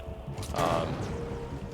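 Gunfire in Halo 5: Guardians on Legendary difficulty, heard as one short, sharp burst of shots near the middle of a brief stretch of game noise.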